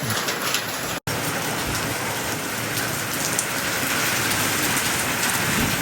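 Heavy rain pours down on a wheat field at harvest in a dense, unbroken roar, broken only by a split-second dropout near the start.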